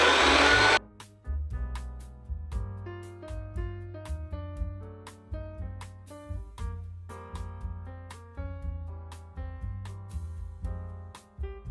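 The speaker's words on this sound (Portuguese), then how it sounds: "Batedeira." An electric stand mixer beats meringue with a steady low motor drone, while the whisk adds a stream of rhythmic clicks and whirring pulses throughout.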